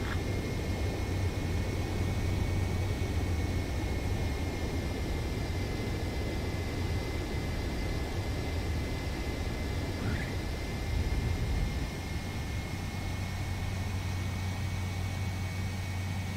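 A fighter jet in the Ace Combat 7 video game flies on, its engine producing a steady, even roar with a low hum beneath, unbroken for the whole stretch.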